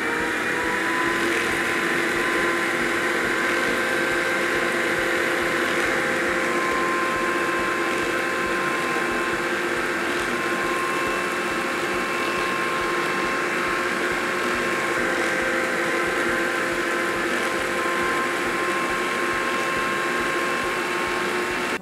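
An electric stand mixer beating Easter cookie dough at a lowered speed, a loud, steady motor whir with a constant tonal hum that runs unbroken for the whole stretch.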